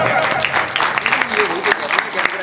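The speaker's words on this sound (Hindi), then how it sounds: "जोरदार तालियां।" Loud audience applause greets a guest at a Mata ki Chowki devotional gathering, with steady dense clapping throughout and some voices mixed in.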